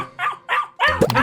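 Cartoon dog from a 3D animated children's series barks in two short spaced yaps, then a louder, busier burst of barking and scuffling as it chases someone out, close and clear.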